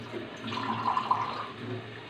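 A little water is poured into a cooking pot of chicken gizzards with coriander, a soft, brief splashing pour heard close by in a home kitchen.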